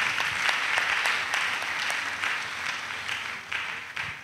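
A church congregation at an annual missionaries' retreat in Côte d'Ivoire applauds in acclamation, a sustained, moderately distant wash of clapping with a few sharper claps standing out.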